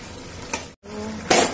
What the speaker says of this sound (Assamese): মাছৰ কণী ভাজি।